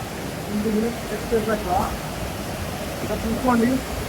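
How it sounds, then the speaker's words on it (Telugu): Rushing water from a mountain waterfall near Manali, with snow on the peaks, forms a steady broadband roar while a person speaks intermittently over it. "మనం వాటర్ ఫాల్స్ దగ్గరికి వెళ్తా ఉంటే ఇలాంటి సౌండ్స్ తింటే క్రేజీగా అనిపిస్తుంది"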